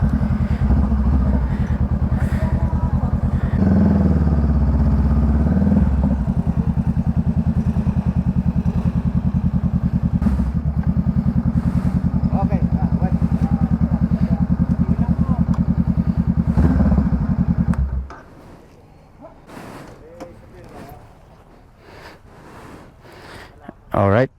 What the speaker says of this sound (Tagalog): mga tropa, pasok daw yung motor doon para mapabless.